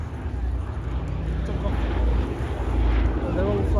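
Small airplanes fly at an airshow at Cosford, heard as a steady, rumbling engine drone that slowly grows louder, with wind buffeting the microphone.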